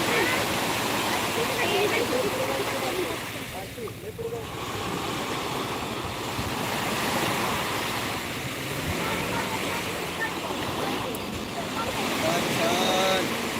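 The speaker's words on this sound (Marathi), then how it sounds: "खूप मोठी लाट आता आलेली आहे" Large waves break on a shore in a continuous loud roar of rushing water and surf, with wind buffeting the microphone and voices talking now and then over the noise.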